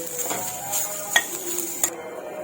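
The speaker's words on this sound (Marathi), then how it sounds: "एक वाटी खोबरं खोवून घेतलंय ते पण असं थोडस आपण परतून घेऊया" Grated coconut is stirred and sautéed in a pan: soft scraping and several light metallic taps and clinks from a spoon against the pan, fairly faint and close, with no talking.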